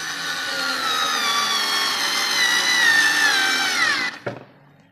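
A Daewoo 3.6 V lithium cordless screwdriver set to torque 8 runs with a steady high whine for about four seconds, then winds down and stops with a small clack, no talking.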